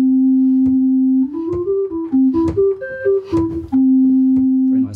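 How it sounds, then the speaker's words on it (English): An English chamber organ played on its stopped diapason stop at 8-foot pitch, clear, soft fluted tones: a held note, then a short run of changing notes, then another held note, with no talk. "So this is called the stopped diapason"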